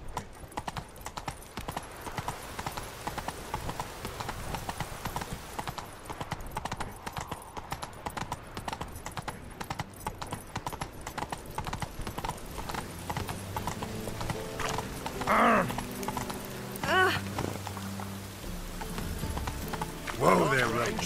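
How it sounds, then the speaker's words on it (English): Horse hooves clip-clop steadily on the ground in the video game The Witcher 3 at night, a continuous close rhythm with an occasional whinny. Low music or game sounds play underneath. "Whoa there, Roach"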